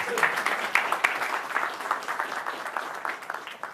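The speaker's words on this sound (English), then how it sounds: "Big round of applause for Paul, please." Audience clapping for a speaker at a leadership talk, a moderately loud, uneven patter of hands with scattered sharp individual claps throughout.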